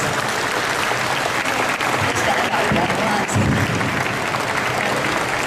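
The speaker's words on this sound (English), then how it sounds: "A big round of applause, please, for the young ones" A crowd gives a big round of applause for young people at an inspirational talk, sustained close clapping that runs steadily while a voice speaks over it.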